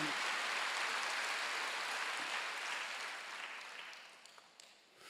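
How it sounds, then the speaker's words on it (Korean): A church congregation at a Wednesday worship service applauding together, a dense steady clapping that gradually fades toward the end. "박수로 한번 해주세요"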